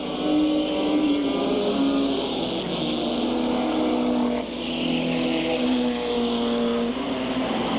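Race cars roar around the oval at Airborne Raceway during a 1995 weekly event, several engines droning and shifting pitch together as a close pack passes, loud and continuous throughout.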